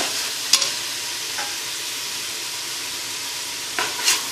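Field beans fry in oil in a pan for a vegetable palav, giving a steady close sizzle broken by a few sharp stirring scrapes, with no voices.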